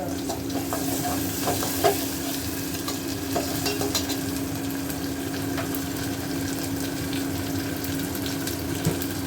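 Chicken frying in a pan with ginger, onion and garlic paste, a steady close sizzle with a low hum underneath and light stirring clicks scattered throughout, no voices.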